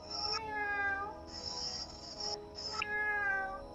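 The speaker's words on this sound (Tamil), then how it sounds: "இது பார்த்தாலே தெரியுது, பூனை கத்துற சவுண்டு தான்." A cat meows three times, used as the sound to guess in a game. The calls are drawn out and wavering, fairly loud and close, with brief gaps between them.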